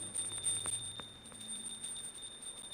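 A small ritual hand bell rings continuously during a Hindu dhupa offering, its high sustained tones shimmering softly and faintly with slight pulsing, with a few soft knocks underneath.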